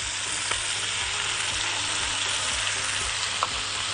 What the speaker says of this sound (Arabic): انزل البصل وانزل الثوم على الفراخ ونديهم تشويحة مع بعض